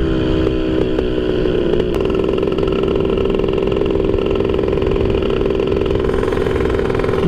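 A 1000cc motorcycle engine runs loud and close with a steady, rough drone. There is a brief shift around two seconds, and no voices are heard.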